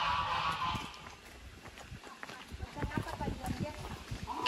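Geese honk faintly on a farm in Honduras, a few scattered calls at a distance amid rustling outdoor background noise.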